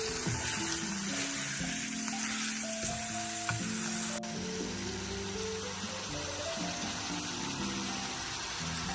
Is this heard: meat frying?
yes